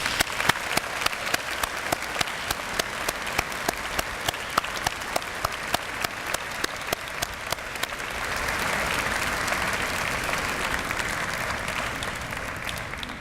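An audience at a university convocation applauds steadily, with dense clapping throughout that thickens into a fuller, louder burst of applause partway through and continues to the end.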